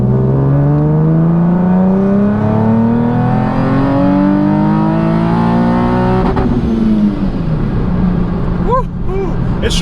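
The Carizon's turbocharged engine revs up loud and close during a dyno pull, pitch climbing steadily for several seconds before the throttle lifts and it winds down, with a brief voice near the end.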